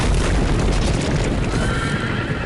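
A loud, close horse whinny with rough, breathy texture and stamping hooves underneath, filling the short moment, from the Telltale Game of Thrones video game.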